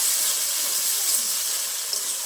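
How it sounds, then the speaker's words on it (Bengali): Ground cumin, ginger, garlic and chilli paste fries in hot oil for a tilapia fish curry, a continuous close hissing sizzle with no talk. "এবার আমি বেটে রাখা জিরে আদা রসুন লঙ্কা সব একসাথে দিয়ে দেবো, ভালো করে মশলাটা কষিয়ে নেবো।"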